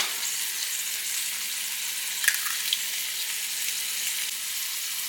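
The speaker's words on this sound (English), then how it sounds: "while your peppers and onions are getting cooked up" Peppers and onions fry in a pan with a steady, close, even sizzle, broken by a couple of faint clicks near the middle; no one speaks.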